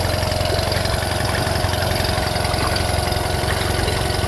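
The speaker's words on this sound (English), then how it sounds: "Alright, so we're going to put this motor in gear. As you can see, it's in forward gear now." Older Honda outboard motor with a single carburetor idling in forward gear, a steady close low engine putter with an even rhythm and no talking.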